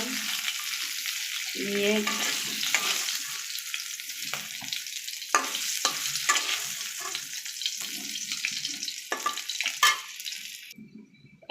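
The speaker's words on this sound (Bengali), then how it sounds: "ভেজে রাখা আলু ভেজে নিলাম" Potatoes frying in oil in a wok over a home stove: a hissing sizzle with intermittent scraping stir strokes and clinks, close by, and a brief spoken word partway through.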